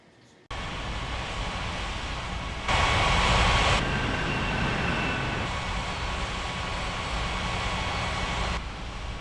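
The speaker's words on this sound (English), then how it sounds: "Air China 7225 cleared for takeoff runway 35 right." An Air China airliner takes off from runway 35 right, its engines roaring steadily and loudly, surging in a brief swell, then sustained broadband jet noise holding for several seconds.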